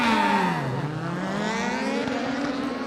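Junior crosscar race cars rev hard at the start of a RallyX qualifying race at Kymiring, a brief bog, then a rising engine note that climbs steadily as the cars pull away.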